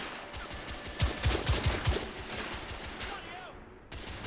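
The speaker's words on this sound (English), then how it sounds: "The rifle sounds surprisingly suppressed." Suppressed rifle fire in The Order: 1886, a quick burst of several muffled, thudding shots in close succession amid game ambience, with a voice talking.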